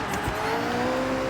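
A Lamborghini Temerario's V8 engine in Forza Horizon drones steadily at high revs, a continuous buzzing tone with a faint tire hiss underneath.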